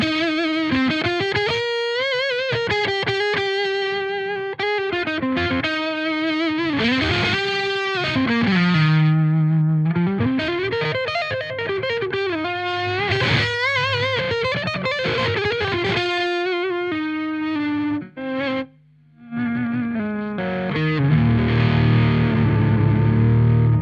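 Electric guitar played through a BOSS SD-1 overdrive setup, with the guitar's volume knob opened up as a boost on the bridge pickup instead of more pedal gain; a continuous, driven, distorted melodic line rings out loudly, with a brief gap near the end.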